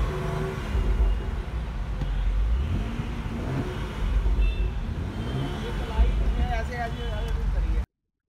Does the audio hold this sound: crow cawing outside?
no